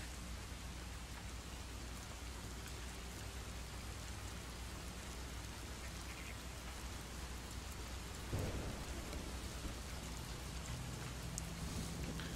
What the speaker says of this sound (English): It takes it a minute for it to realize you're indoors and stop making it rain.